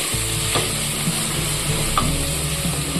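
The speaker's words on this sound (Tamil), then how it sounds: "இப்போ இது மூணையும் நல்லா எண்ணெயில் பொறிய விட்டுருவோம்" Steady sizzling of spices and garlic frying in hot oil for fish curry, a close, even crackle with a couple of soft stirring scrapes.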